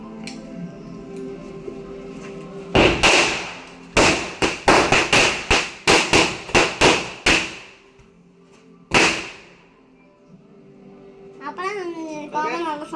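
Small firecrackers bursting for the Vishu festival, a rapid string of about a dozen sharp, loud bangs close by, then one more crack after a pause. A voice follows at the end.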